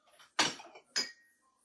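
A glass is lifted out from among dishes in a home kitchen, with two quick, close clinks of glass against crockery and quiet moments around them.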